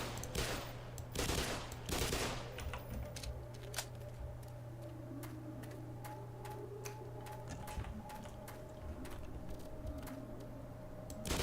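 A Xen turret firing in Black Mesa, a run of rapid, evenly spaced sharp shots, fairly faint and alone over a low steady hum, with a few louder bursts at the start.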